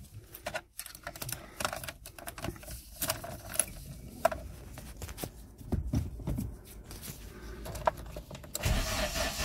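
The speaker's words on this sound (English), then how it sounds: "Engine sounds perfect." A 1992 VW Corrado 16v engine cranks and turns over among scattered clicks and clunks, settling into a low rumble toward the end.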